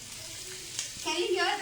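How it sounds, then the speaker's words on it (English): Paneer satay cooking in a hot griddle pan gives a close, steady sizzle that brightens into louder crackling and hissing partway through, with a voice faintly present. "Can you hear the sizzling noise?"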